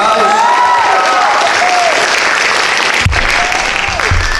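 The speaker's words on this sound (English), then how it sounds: "Give them another round of applause." Loud, dense audience applause at a high school talent show, a steady wash of clapping with some cheering whistles early on, continuing throughout without pause.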